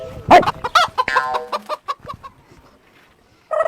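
A hen clucks and squawks loudly up close in a quick burst that tapers off, then another burst of clucking starts.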